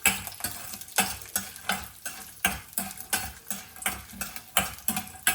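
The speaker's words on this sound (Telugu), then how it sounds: "శనగపప్పు కొంచెం పల్లీలు కొద్దిగా రెడ్గా రావాలండి, అంతవరకు ఫ్రై చేసుకోవాలి." Peanuts, urad dal and chana dal frying in oil for a peanut chutney, a soft sizzle under steady, regular scraping and clinking strokes of a spoon against the pan, close up with no voices.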